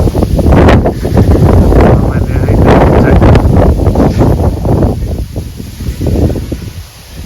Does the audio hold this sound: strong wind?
yes